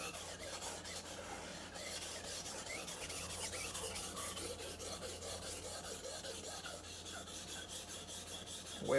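A dull knife blade is sharpened with a steady, continuous scraping rasp of metal on a sharpening surface, close and fairly quiet, and the strokes run on without pause and without any voices.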